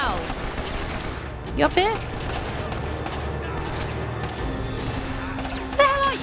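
Gunfire in Uncharted: Drake's Fortune: bursts of shots and impacts crackle over steady action noise while someone talks briefly over the fighting.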